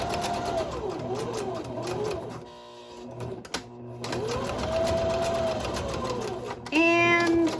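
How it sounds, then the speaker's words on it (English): A sewing machine top stitches a crossbody bag strap at stitch length 4, running in close, even whirring bursts broken by short pauses and ending on a higher-pitched whir. "I'm just going to sew down, following the original line we've just sewn as the top stitch"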